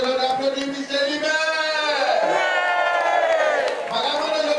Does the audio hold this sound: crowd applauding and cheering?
yes